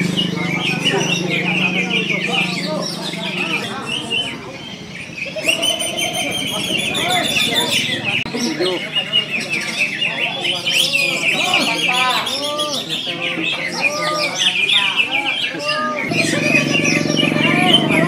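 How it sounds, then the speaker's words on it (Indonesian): Bornean magpie-robin (murai) singing at a bird contest, loud varied whistles, trills and chirps in rapid bursts over a busy background with other birds cooing nearby. "Murai Borneo sejati."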